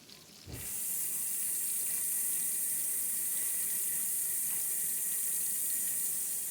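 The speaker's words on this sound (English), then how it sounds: "let me take the spoon and wash it" Tap water running into a kitchen sink as a spoon is washed, a steady close hiss and splash that begins after a short pause and continues evenly to the end.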